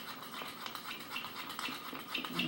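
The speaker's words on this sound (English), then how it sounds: "So I'm just stirring it and stirring it. Because almond butter is so fat, right, so heavy, it takes a little while to stir smooth here." Thick, heavy almond butter being stirred smooth in a bowl, a soft, steady scraping and squishing close by that continues without pause.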